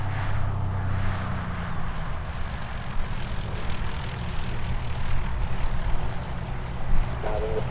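Propeller airplane descending to land at EAA AirVenture Oshkosh 2018, a steady low engine drone close by with wind rumble, holding fairly level over several seconds.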